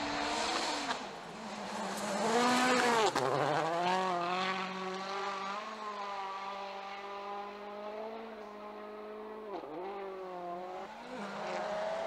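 A rally car speeds through a special stage of the 2015 Neste Oil Rally, its engine revving hard and climbing through repeated gear changes as it approaches and passes at moderate distance, heard alone without voices.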